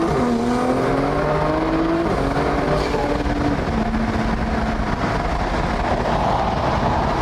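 A tuned car races against a McLaren 720S, its engine screaming loud and close through rising gear pulls, with heavy wind and road roar underneath.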